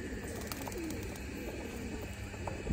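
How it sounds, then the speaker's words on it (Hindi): Pigeons cooing in a loft in Kolkata, soft low coos repeating under a constant hiss of background noise, fairly faint. "और ये सारा कबूतर अभी कुणाल भाई और अमित भाई लिया है"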